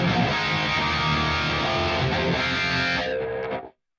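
A heavily distorted electric guitar played through an Archetype Petrucci amp plugin rings out dense and loud, sustaining for a few seconds before cutting off abruptly.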